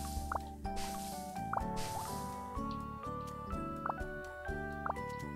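Cartoonish watering sounds from a farming video game as carrots are watered: bubbly dripping and squishy liquid plops over a tinkly, melodic background tune, repeating in short bursts.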